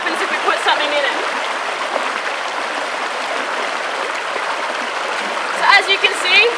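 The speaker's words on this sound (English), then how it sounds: "the water comes over, it hits the bottom of the riverbank and it recirculates" River water pours over a stopper and recirculates against the riverbank, making a steady, close rushing and churning wash with a few brief louder splashes near the end.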